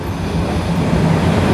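A train rolls through a station on the Romanian M600 line, a loud continuous rumble of wheels and cars close by, steady throughout with no voices.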